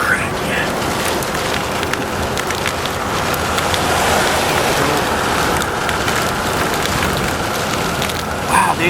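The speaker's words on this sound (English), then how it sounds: "I wish we could just get rid of this rain." Heavy rain pounds steadily and close during a tornado chase in Pumpkin Center, Oklahoma, a dense continuous roar like downpour on a vehicle, with faint voices mixed in.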